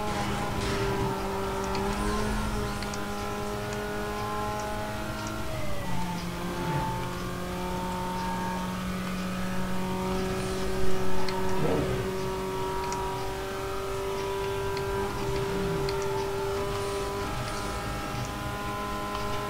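A racing car engine in the video game Need for Speed Most Wanted revs and holds a loud, steady drone, its pitch shifting as gears change, with a few brief surges and no talking.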